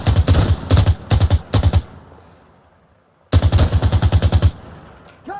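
Machine gun fire in Insurgency: Sandstorm, loud and close: four short, punchy bursts, a pause with a fading tail, then one longer sustained burst of rapid shots.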